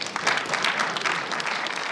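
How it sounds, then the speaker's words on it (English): Conference audience at a bitcoin expo applauding a speaker, a steady dense wash of clapping that stays loud and even throughout, with no talk over it. "So let's have a round of applause for Georgios."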